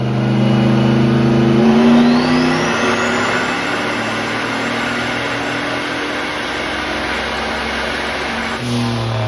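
A turbocharged Dodge Diplomat engine revs hard on a dyno, climbing loudly through the rev range and then falling back to idle near the end, steady and close with no talk.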